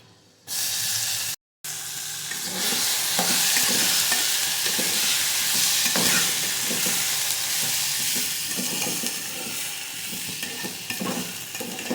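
Soaked rice and dal roast in a hot pan with turmeric and coriander powder, making a steady close sizzle broken by faint stirring scrapes, with no talking.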